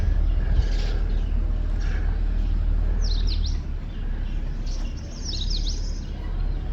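Small birds at a nest in a berry tree give a few brief, high chirps in separate bursts, heard over a steady low outdoor rumble.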